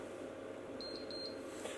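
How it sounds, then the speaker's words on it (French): Four quick, high-pitched timer beeps come from a FusionChef Diamond sous-vide immersion circulator, evenly spaced and fairly faint above a constant background hum. "La seconde alarme a écoulé tout son temps, pareil que pour la première, elle se met à sonner et à clignoter."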